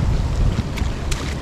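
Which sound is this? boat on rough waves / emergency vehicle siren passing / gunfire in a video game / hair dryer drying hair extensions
boat on rough waves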